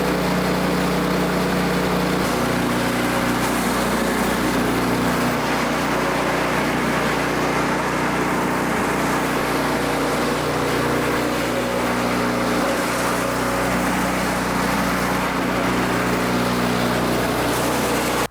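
A snowblower engine running steadily at close range, a loud, even mechanical drone with a constant low hum throughout and no one talking.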